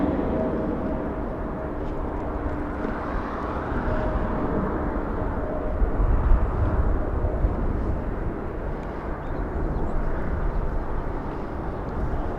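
A Boeing 787-9 Dreamliner taking off from runway 24 left at LAX, a steady distant jet roar that swells slightly midway and holds for the whole stretch, without voices.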